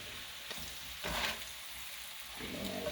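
Ground beef with paprika sizzles quietly in a frying pan while a spoon stirs it, with a few brief louder scrapes and pushes over a soft continuous fry.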